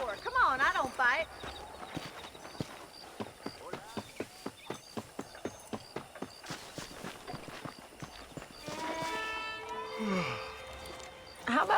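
Steady clip-clop of a horse's hooves walking at an even rhythm in the Wild West game Red Dead Redemption, with character dialogue and ambient music at the start and end.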